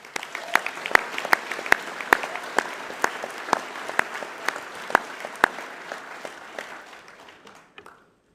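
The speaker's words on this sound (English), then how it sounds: "Please applaud these students." An audience at a high school prize-giving applauds students for their awards, a steady, moderately loud round of clapping that thins out and fades away near the end.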